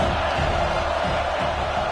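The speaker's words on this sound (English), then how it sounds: "These fans are going absolutely nuts." A stadium crowd roars at a football game, a dense, loud, continuous wall of cheering and yelling that fills the space with no break.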